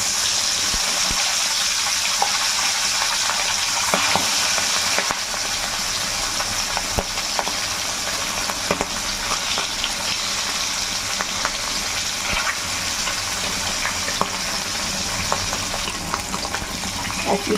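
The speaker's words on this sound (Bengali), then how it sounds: "তেল গরম হয়ে গেছে, আর মাছগুলো ছেড়ে দিচ্ছি।" Hilsa fish pieces frying in hot mustard oil for shorshe ilish give off a loud, continuous, crackling sizzle with scattered small pops and clicks throughout.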